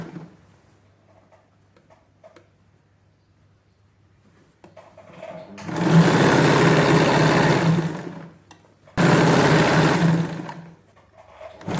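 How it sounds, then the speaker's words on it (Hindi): A sewing machine stitching palazzo pant fabric runs in two loud, steady bursts of motor whirr, the first about two seconds long and the second shorter, after a quiet stretch of faint handling noises. "तो मैं स्टिच करूंगी।"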